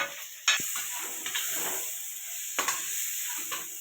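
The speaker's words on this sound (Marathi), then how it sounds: "आता ही मटकी उकडलेली टाकून द्यायची याच्यात आणि हिला पण मसाल्यात परतून घ्यायचं" Boiled moth beans sauté in spicy masala in a hot pan, a soft continuous sizzle and hiss broken by a few sharp spoon scrapes and stirs, close up with no voices.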